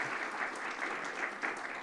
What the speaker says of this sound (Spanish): Un aplauso y un agradecimiento especial al doctor Eric.